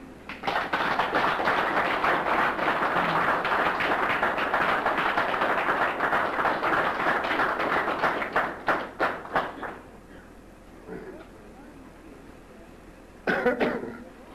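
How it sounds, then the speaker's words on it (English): An audience at a memorial service claps in a sustained round of applause that tapers off into scattered claps, followed by quiet and a few final claps. "We have a round of applause, please, for Howard Smith."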